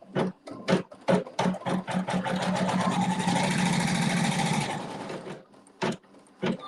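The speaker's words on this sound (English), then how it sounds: "I have regular sewing thread in the needle, and it's going to stitch a seam" Short stop-start bursts from a sewing machine running regular thread through a seam give way to a longer continuous stretch of stitching, then a few isolated clicks as it stops.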